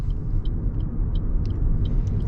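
A car drives through a town intersection with right-of-way, its engine and road rumble steady and close, with faint intermittent high ticks throughout and no voices.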